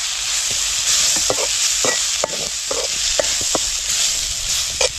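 Chili powder being stirred into sautéed onions for a fish curry, with a loud continuous sizzle from the pan and irregular spoon scrapes against the metal, heard up close with no voices.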